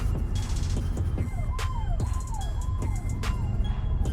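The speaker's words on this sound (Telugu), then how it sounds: "అంబులెన్స్కి వే ఇవ్వండి." An ambulance siren wails in a repeating up-down sweep, several cycles close and loud over steady traffic rumble on a busy road.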